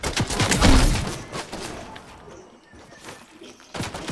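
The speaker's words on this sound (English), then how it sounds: "there's a guy shooting at me" Gunfire in a video game: bursts of rapid shots and thumps crowd the first second and a half, then scattered distant pops follow with another burst near the end, under voices talking.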